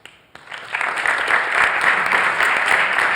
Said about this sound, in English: we clapped and we're done